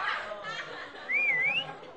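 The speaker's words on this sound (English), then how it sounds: "Who are you whistling at?" A single person whistles a short, wavering tune, rising and dipping, fairly close and alone after a brief breathy lead-in.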